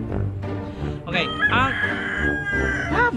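A rooster crows loudly and close by in a backyard garden, its call drawn out and rising over about three seconds, with a person talking faintly underneath.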